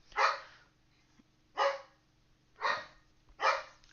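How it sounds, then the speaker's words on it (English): A dog named Shyla barks four times at a visitor, sharp single woofs spaced about a second apart, moderately close with a quiet hum between them. "that's the first time she's ever barked at him"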